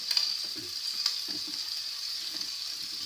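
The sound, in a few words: onions caramelizing in a pan for Savoy diots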